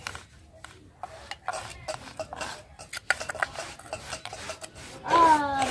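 Black peppercorns crushed by hand for a wood apple sherbet, a steady gritty rasping scrape repeating close by, ending in a louder squeaky grind.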